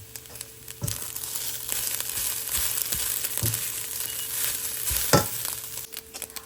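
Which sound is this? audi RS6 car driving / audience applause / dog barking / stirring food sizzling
stirring food sizzling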